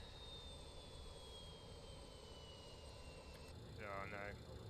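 Simulated BAE 146-300 airliner in MSFS 2020 with engine 3 starting while engine 4 already runs: a steady jet whine and a thin, slowly falling tone under broad engine rush, with a brief burst near the end.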